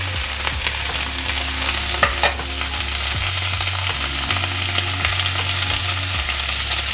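Vegan chilli being stirred in a hot pan with beefless crumbles, kale and tomato sauce, a steady close sizzle broken by repeated scraping strokes of the spoon, with a low hum underneath and no talking.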